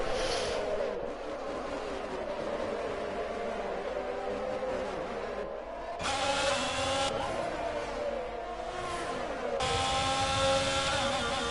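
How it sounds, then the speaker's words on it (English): A Formula 1 car engine in a racing video game drones and whines steadily at high revs, shifting pitch through gear changes and surges, with no one talking. "Don't know about that engine noise though."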